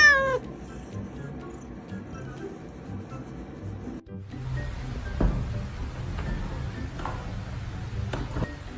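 A house cat meows at close range, with a few high mewing calls early on, then a quieter room with light rustling and shuffling, and more faint meows near the end.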